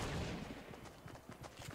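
Gunfire in the video game Fortnite: a loud initial burst followed by several quieter, rapid shots spaced irregularly, with no talking over them.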